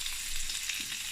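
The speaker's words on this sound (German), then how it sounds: "We put the sausage into the pan." Sausage frying in a pan gives a steady, close crackling sizzle that runs unbroken and alone, with no voices.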